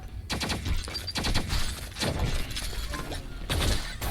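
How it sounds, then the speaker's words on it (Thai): Gunfire in the mobile shooter T3 Arena, clusters of sharp rapid shots with crackling impacts in several bursts, fairly quiet and without talk. "มีคนยิงผมนะ"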